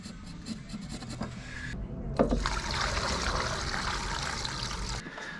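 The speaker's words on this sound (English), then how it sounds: "Next litre of fuel going in, so that'll be 2 litres." Fuel pours steadily into a tank for a few seconds, one litre at a time from a measuring container, a continuous liquid trickle and splash heard close up with no talking.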